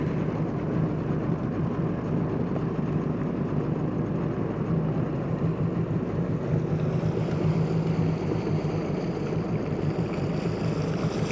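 Jet ski engine running steadily on a lake as the craft backs out, a continuous low motor drone mixed with wind noise on the microphone, with no talk over it.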